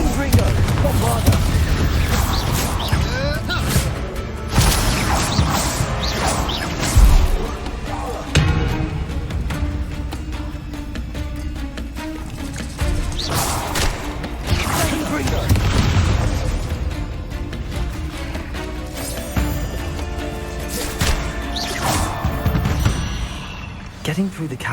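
Spell blasts and explosions in the Hogwarts Legacy video game, dense booming bursts and crackling impacts layered with game music and shouted spell incantations throughout, loud and continuous with frequent sharp hits.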